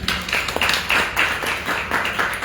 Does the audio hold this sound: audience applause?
yes